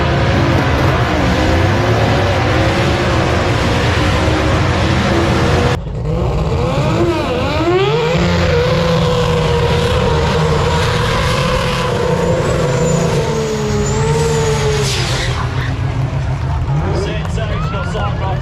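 Drag racing cars roar and rev at Willowbank Raceway, loud engines that drop and then pitch up as they move out, with an announcer talking over them.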